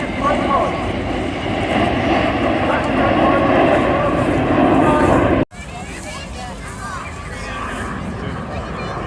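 Red Arrows jet aircraft flying at an airshow, a loud, sustained roar that cuts off abruptly midway, then continues at a slightly lower level with crowd babble beneath.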